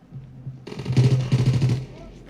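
Rapid burst of video game gunfire played through a PC, a quick rattle of shots lasting about a second, then fading, with a faint low hum underneath.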